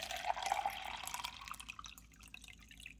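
Water pours into a 20-ounce plastic cup, a bright splashing stream that is loudest at the start and then thins into softer trickles and drips as the cup fills.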